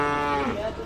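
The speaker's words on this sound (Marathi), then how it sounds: "व्यापारी वर्गाने घेतलेली गाय आहे" A cow at a Khillar cattle market in Sangola, Solapur, gives one short, close, steady moo that fades slightly at the end.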